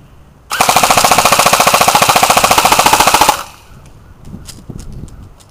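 An airsoft gun fires full auto at a cell phone, a loud, rapid, evenly spaced burst lasting about three seconds, followed by a few faint clicks and rattles.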